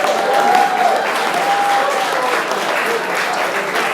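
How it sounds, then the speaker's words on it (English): A crowd at a rugby league club sponsors' night gives a rugby player a sustained round of applause, loud, dense and steady for the whole stretch, with voices mixed in. "Stand up and give him a massive round of applause"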